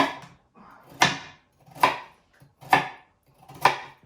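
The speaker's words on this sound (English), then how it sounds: "you take them and you cut them in half, perhaps in half again. So we have diced carrots." Knife dicing carrots on a cutting board, four or five sharp separate chops spaced about a second apart, close and clear with quiet pauses between them.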